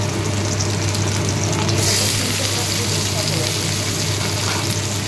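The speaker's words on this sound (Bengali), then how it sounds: "পেঁয়াজ দিয়ে দিলাম, পেঁয়াজটা দিয়ে একটু ভাজা ভাজা হয়ে দেবে।" Onions sizzle in a pan in a steady, loud, continuous fry with a faint hum beneath and a brief shift midway.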